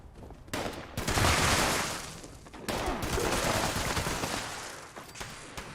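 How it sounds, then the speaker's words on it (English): Explosive automatic gun firing in the Fallout 76 video game, a dense roaring burst of rapid shots, a brief lull, then a second sustained loud volley. "Bloody mess plus explosive automatic gun."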